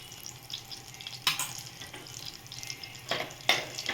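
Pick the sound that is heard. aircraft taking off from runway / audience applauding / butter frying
butter frying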